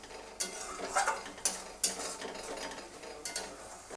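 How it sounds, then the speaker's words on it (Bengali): Tomato paste being sautéed in a pan for a Bengali-style masala chicken, with a spoon scraping and clinking against the metal in irregular strokes close by and a faint sizzle underneath. "টমেটো বাটাটা দিয়ে একটু ভালো করে মিনিট 2 কষিয়ে নেব।"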